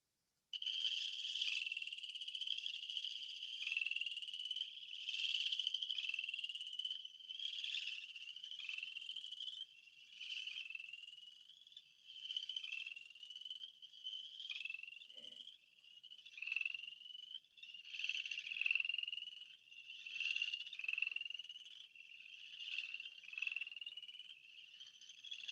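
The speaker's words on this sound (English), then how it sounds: "I actually made a video of this Boreal chorus frog calling" A Boreal chorus frog calls repeatedly from a pond, its rising trill-like notes following each other in a steady rhythm, loud and close, with no voices.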